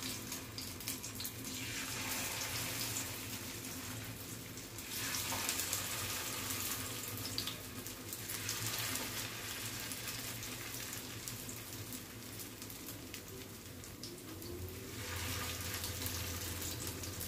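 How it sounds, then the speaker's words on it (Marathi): Beetroot tikkis shallow frying in hot oil in a pan, a steady broadband sizzle and crackle running throughout at an even, fairly loud level with slight swells, no voices. "तर आपण ह्याला शॅलो फ्राय करणार आहे."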